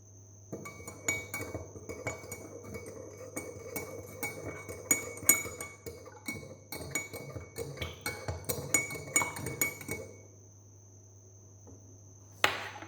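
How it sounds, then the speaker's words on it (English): A spoon stirs salt into a glass of water, giving a run of quick light clinks and taps against the glass for several seconds over a faint steady hum, then stopping. "we will take some salt and we will dissolve it in this glass of water"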